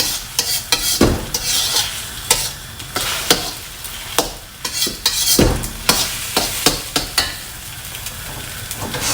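Eggs stir-fried in pork lard hiss steadily in a pan while a spatula scrapes and knocks in repeated, uneven strokes, close and fairly loud, with no talking.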